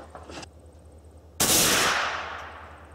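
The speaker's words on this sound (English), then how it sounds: "We'll test out this first batch of 22 sensitive exploding targets." A single sharp blast from a .22-sensitive exploding target struck by a Ruger 10/22 rifle outdoors, a loud close bang with a fading rumble, preceded by a faint crack.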